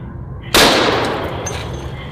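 A single loud, close gunshot from a big gun firing a full metal jacket round, a sharp sudden blast followed by a long ringing decay and reverberation.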